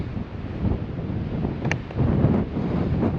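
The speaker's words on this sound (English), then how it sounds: "It's very, very windy" Strong wind on Beenoskee mountain buffets the microphone in a dense, continuous low roar, swelling louder toward the end, with a brief faint tonal chirp partway through.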